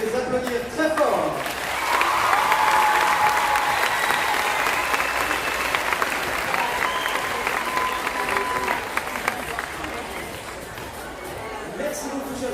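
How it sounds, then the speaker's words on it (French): Loud, sustained applause from a gymnasium crowd at a youth results ceremony as medal winners are honoured, with a few shouts and chatter mixed in, gradually easing toward the end. "applaudir très fort."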